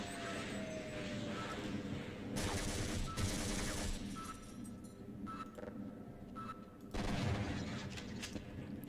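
Shotgun blasts in Half-Life arrive as a few sharp bursts with ragged echoes over a quiet background of ambient game sound, spaced seconds apart.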